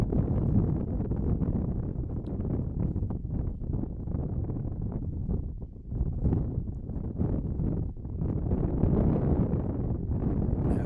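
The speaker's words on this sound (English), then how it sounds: "That wind is, like I mentioned, blowing hard out of the southeast" Strong wind blowing hard out of the southeast at an outdoor cross country race, a continuous low roaring buffet across the microphone that swells and eases, loud and unbroken, with no talk.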